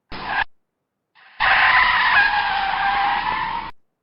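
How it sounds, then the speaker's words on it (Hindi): A car's brakes squeal as it stops in front of a house, a short screech followed by a sustained, loud high-pitched squeal that fades away. No one speaks over it. "ये है ब्रेक लगने की आवाज। जब गाड़ी घर के सामने ब्रेक लगता है ना, तो उसकी जो ची की आवाज आती है ना"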